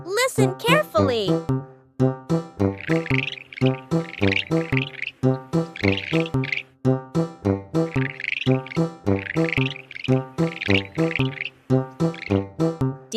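An anteater's call rings out as a steady run of rhythmic, harmonic chirping pulses, loud and close, repeating for several seconds with a brief higher squeal at the very start.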